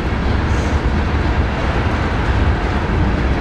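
A loud, steady rumbling roar of a CSX ethanol freight train passing close by in Columbus, Ohio, continuous throughout with no pauses.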